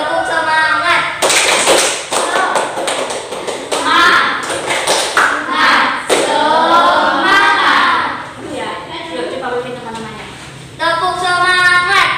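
A fifth-grade class doing rhythmic 'tepuk semangat' spirit clapping, sharp hand claps and taps in patterned bursts mixed with children's chanting voices close by.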